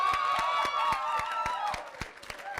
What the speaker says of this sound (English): let's please get a big round of applause for Kharn and Kongo Kong.